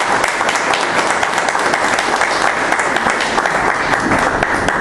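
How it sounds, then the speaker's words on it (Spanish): Loud, dense applause from a church congregation welcoming the start of a service, steady and sustained throughout with a few faint cheers. "Démosle ese fuerte aplauso de bienvenida."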